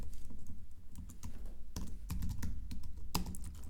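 Steady, fast clatter of keys on a computer keyboard as a GraphQL mutation is typed out, dense irregular clicks with a few louder strikes, close and alone without talk.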